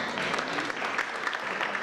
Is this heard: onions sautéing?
no